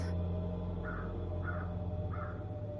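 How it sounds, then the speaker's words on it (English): Three separate caws from a crow just outside a window, evenly spaced over a low steady indoor hum, moderately loud and close. "that crow is right next to the window"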